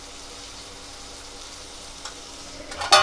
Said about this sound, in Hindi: अब हम अदरक का पेस्ट डाल दे रहे हैं दोस्तों।